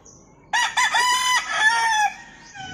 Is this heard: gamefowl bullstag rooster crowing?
yes